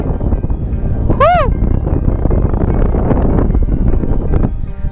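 Strong wind on a hilltop about 3000 feet up at Shivagange Betta buffets the microphone with a constant, loud low rumble, and a short rising whistle-like tone cuts through near the start.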